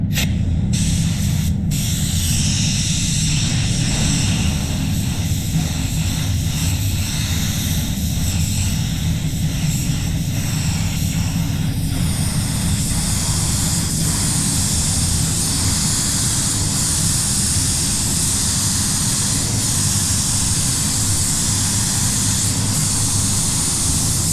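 A spray gun hisses steadily while laying clear coat onto a car bonnet, a loud continuous rush of air and atomized paint running throughout with no pauses and no voices.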